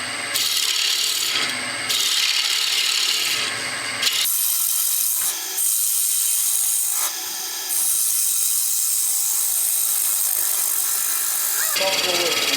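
A big bowl gouge cuts wood on a lathe during a woodturning demo, with loud scraping bursts early on, then quieter, lighter cutting with short pauses and a final scrape.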